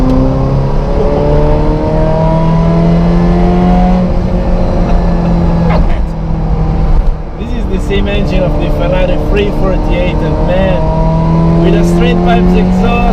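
A vintage Ferrari with a 2.5 exhaust drives under load, its engine and exhaust droning loudly as revs rise and fall, with people talking over the sound.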